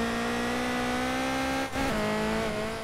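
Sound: car drifting in a sim racing video game

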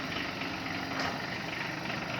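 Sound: Kubota GB15 mini tractor engine running

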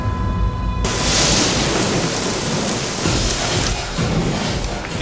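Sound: rain falling

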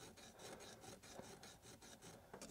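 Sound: metal file rasping on a tsuba

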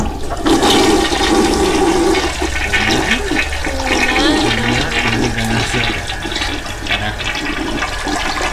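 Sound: toilets flushing in video game Pesadelo

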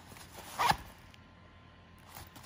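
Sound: zipper on Fjällräven High Coast Pocket bag

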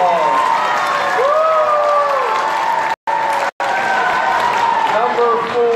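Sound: audience applause at Science Olympiad

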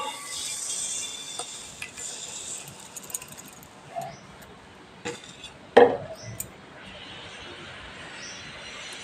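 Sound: stirring sugar into Alphonso mango pieces in a pot

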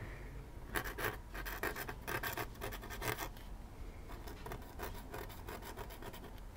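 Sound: very fine calligraphy nib scratching on paper

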